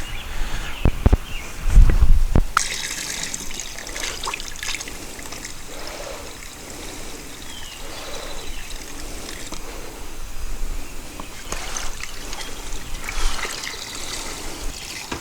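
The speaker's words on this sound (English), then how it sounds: "I'm going to turn the hose on and let that wash it down." Water from a garden hose trickles and pours down into a sewer line clean-out, a steady gurgling flow after a brief louder splash at the start, close by with no talking.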